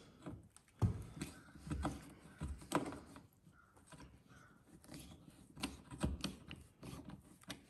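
Two Phillips screws are backed out of a part on a Ford F250. Light ratcheting clicks and small mechanical taps come close up, in uneven bursts, with no talking.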